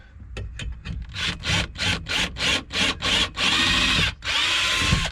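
A power drill drives its bit into wood while building sawhorses, starting with a few short pulses and then settling into a rapid series of loud, rhythmic whirring bursts that end in one long sustained run.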